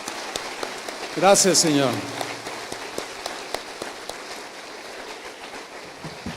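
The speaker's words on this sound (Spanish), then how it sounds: "Dale un aplauso al Señor." Applause from a church congregation during a Spanish-language worship service, a steady hiss of many hands clapping under a voice giving thanks aloud throughout.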